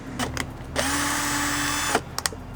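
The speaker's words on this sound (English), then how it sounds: "I'm gonna go ahead and drill into these first 2 holes right here." A power drill whirs steadily for about a second, close and loud, drilling holes in a Sprinter van to install a backup camera, framed by a few short clicks and taps before and after.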